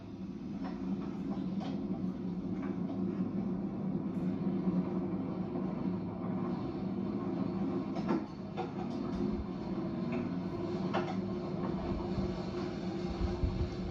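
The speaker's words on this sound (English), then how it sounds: "Boy, was that a sweet takeoff or what?" An aircraft taking off from Heber gives a steady, moderate roar from inside the cabin, a continuous engine drone with faint rattles and no talk.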